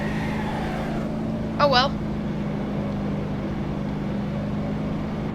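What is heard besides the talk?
car engine revving in video game BeamNG.Drive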